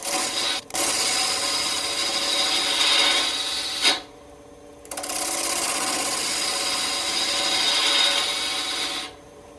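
A wood lathe turning as a candle holder is thinned, a loud steady whirring rasp of the cutting tool on spinning wood, broken by two brief pauses when the tool lifts off.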